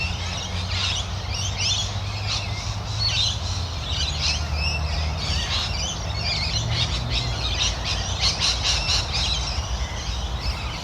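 Many birds squawk and chirp at a roosting spot in cold weather. Overlapping calls come steadily at moderate distance over a low rumble, with no voices.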